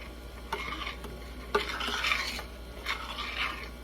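A utensil stirs thick turkey gravy made with pan drippings in a pan, making soft scraping swishes in a few slow strokes with light clinks, close and alone.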